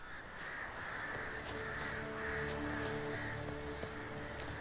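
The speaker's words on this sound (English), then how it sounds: "Carrion birds flying over the battlefield, it's a nice touch." Crows cawing over a battlefield in The Witcher 3 video game, several harsh caws spaced out across a steady ambient wind bed, with low sustained musical tones underneath.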